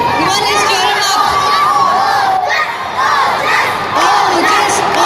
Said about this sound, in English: Come on, let's cheer him up.